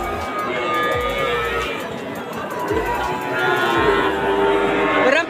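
Young Limousin calves moo loudly at a busy cattle market in Situbondo, with long, drawn-out bellows repeating over a steady murmur of crowd chatter.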